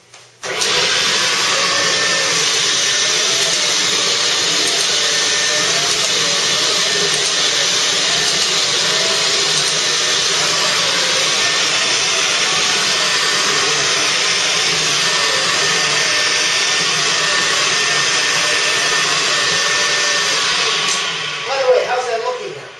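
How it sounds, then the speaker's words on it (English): A dry carpet cleaning vacuum machine runs loudly and continuously at close range with a steady high whine and rushing airflow that holds for over twenty seconds before winding down at the end. "Just come in there and do your normal vacuuming that you would normally do on a daily basis, but just using this machine versus your normal upright."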